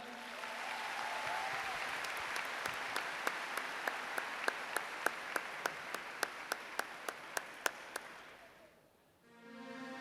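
An audience applauds at a music awards show, a thick sustained wash of clapping with sharp, evenly spaced rhythmic claps cutting through, then fading out near the end as music begins.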